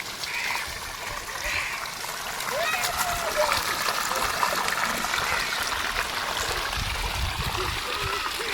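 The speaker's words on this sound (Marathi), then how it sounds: "मस्त की पाणी किती प्रेशरने आहे या साईडला" Water rushes and splashes steadily under pressure in a village vegetable field in Konkan, a continuous close gush heard beneath people talking.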